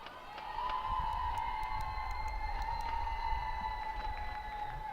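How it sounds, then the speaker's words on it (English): Korean supporters cheer on their women's team late in a rugby sevens match between China and Korea, a sustained, steady crowd roar with a high whistling tone running through it throughout. "Korean crowd trying to get in behind their ladies, give them a bit of a lift for this last 4 minutes"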